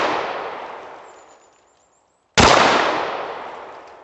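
Two sharp, close handgun shots from an American Tactical FXS-9 crack out about two seconds apart, each followed by a long, fading echo, with no talking.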